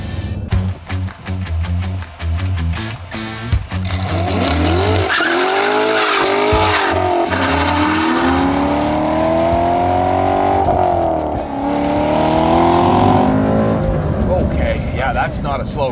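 A 2014 C7 Corvette's naturally aspirated V8 revs hard up through the gears, its roar rising and falling with tire squeal and skidding, loud and close.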